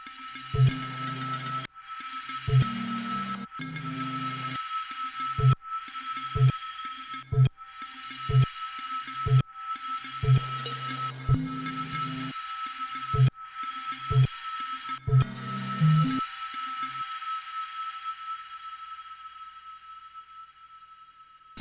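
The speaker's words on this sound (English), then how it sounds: "just those 2 resampled tracks with random LFOs scanning for random different playback points sounds like this." Metallic, gong-like tones resampled on an Octatrack, chopped into repeating loops with abrupt stops and starts by random LFOs, ending in a long ringing decay that fades out alone.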